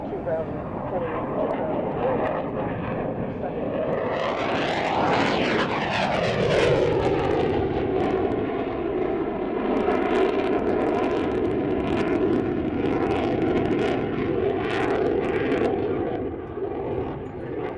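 Avro Vulcan bomber jet engines roar continuously as the aircraft flies past at the Waddington Airshow 2008, with a loud sweeping pitch change midway and a sustained rumble afterward, under talk.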